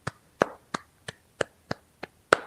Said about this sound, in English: Round of applause for 4 Pits.